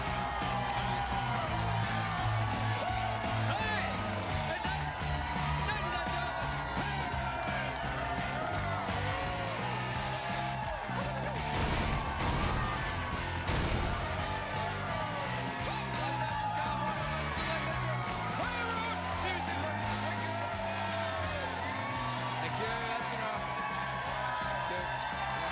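A television studio audience keeps up a dense, steady wash of applause and cheering for the whole stretch, with whoops over continuous clapping and music underneath, loud and unbroken.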